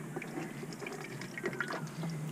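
Wet, dripping trickles as soaked coconut pulp, steeped in boiling water, is squeezed by hand to make coconut milk aboard a sailboat; irregular small splashes and drips, close and fairly quiet, with no talking.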